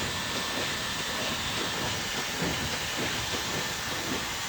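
A hair dryer with its nozzle removed blows a broad, steady airflow during a layered long bob haircut, giving a continuous close hiss and whoosh that stays even throughout.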